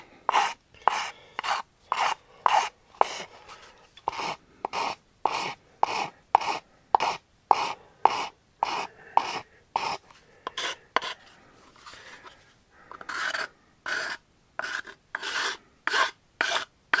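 A file rasps rhythmically against a hard Kydex plastic holster edge, repeated strokes in a steady back-and-forth pattern with brief pauses, close and loud.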